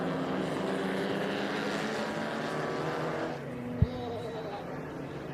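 Vintage race cars at the 2023 Velocity Invitational, side by side on track: a sustained, fairly loud engine roar that drops off partway through, with one sharp knock near the end, with no speech.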